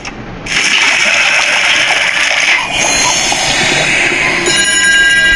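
Dirty water pours onto a plant in The Baby In Yellow video game as a loud, steady gushing splash that starts abruptly, briefly dips midway and then keeps rushing.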